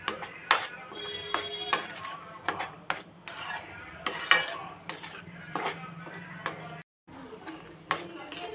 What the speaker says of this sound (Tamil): பத்து நிமிஷம் எண்ணெயில் அப்படியே வதக்கணும்